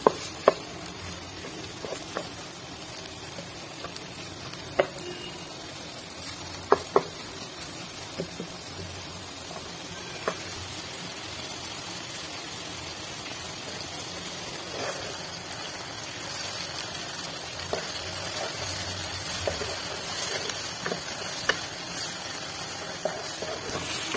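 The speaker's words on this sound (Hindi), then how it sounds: "इसे हम करीबन 5 मिनट के करीब इसे हम फ्राई करेंगे मीडियम फ्लेम पे" Onions sauté gently in a pan over a medium flame for chicken manchurian, with a soft continuous sizzle and scattered spoon taps and stirring clicks.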